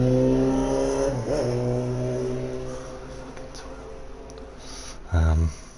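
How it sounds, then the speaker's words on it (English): Droning motorbike engine hum in the video game GTA Online, with harmonic tones that rise and dip, then a brief louder rev near the end; a voice talks over it. "You've got a noisy motorbike"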